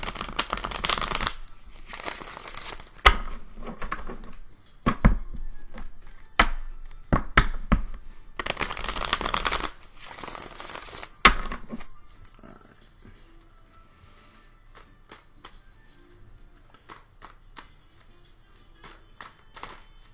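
Tarot cards riffle and slap in several bursts of shuffling, close and crisp, with quieter taps and handling noises trailing off toward the end.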